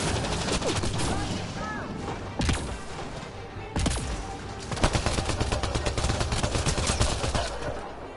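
Gunfire in Mass Effect Andromeda crackles in repeated bursts, with dense rapid shots and sharp single reports layered over continuous battle noise, loud and close throughout.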